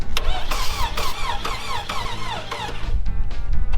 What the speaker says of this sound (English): Let's see if it fires up now.